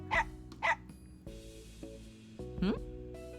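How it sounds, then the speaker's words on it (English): A Labrador Retriever puppy barking in a video game, two quick close yaps then a higher whining bark, over a soft steady game music background. "We heard the sound of a dog barking."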